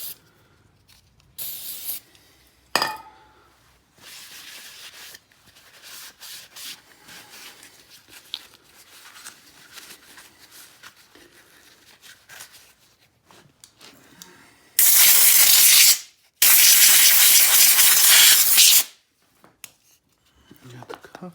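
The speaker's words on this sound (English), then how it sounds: "I'm gonna spray this one down too." An aerosol can hisses as it sprays down parts of a 33cc Rapala Vortex ice auger during maintenance, two long, loud bursts separated by a short pause, following quieter handling and rubbing noises.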